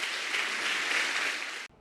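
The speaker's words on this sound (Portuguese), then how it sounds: "Vamos aplaudir Jesus mais uma vez." A church congregation claps together in a brief, steady burst of applause that stops abruptly.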